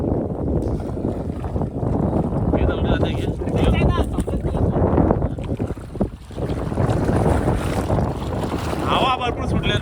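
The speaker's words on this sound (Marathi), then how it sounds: "हवा भरपूर सुटले" Strong wind buffets the microphone on a seashore, a loud roaring rush with surf beneath it, while people talk over the gusts throughout.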